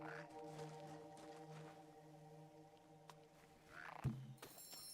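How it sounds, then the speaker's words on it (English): A frog croaks in The Unfinished Swan, a soft low call under steady ambient game music, with a brief thump near the end. "Haha, frog!"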